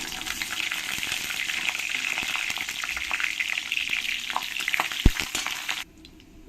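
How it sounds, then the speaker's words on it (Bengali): Bay leaf, dried chilli and cumin frying in hot peanut oil for a Bengali prawn curry give a steady, bright sizzle with small crackles throughout, close and continuous, then drop away abruptly near the end, with no talking. "তেলটা ভালো করে গরম হয়ে গেছে এবার আমি এর মধ্যে দিয়ে দেবো তেজপাতা শুকনো লঙ্কা জিরে"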